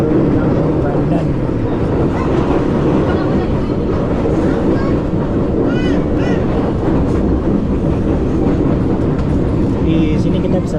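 A KRL commuter train rumbles steadily into Kampung Bandan transit station in Jakarta, with loud continuous rail noise, wheel squeals and clatter heard from inside the carriage, and faint voices underneath.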